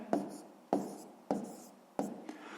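Numbers written by hand on paper for a column multiplication of 4.32 by 125, heard as four separate scratchy pen strokes, each with a sharp start that fades, spaced roughly half a second apart.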